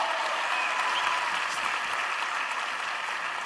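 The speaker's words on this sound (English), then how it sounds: "Let's clap it up for him." Audience clapping at an entrepreneurship festival in Sharjah, a steady, even roar of many hands that holds at a constant level from a hall full of people.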